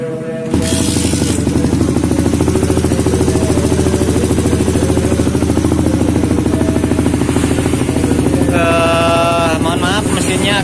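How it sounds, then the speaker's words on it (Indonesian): An old motorcycle engine fitted with a PWK carburetor idles loudly right up close after starting, a rapid, steady mechanical chatter with clattering valve noise throughout and a brief high whine near the end. "Mohon maaf mesinnya agak berisik kalau pertama dihidupin, oli agak telat naik."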